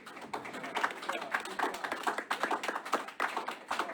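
A room full of people at a community oversight board meeting clapping steadily, dense overlapping hand claps at moderate volume with a few voices mixed in.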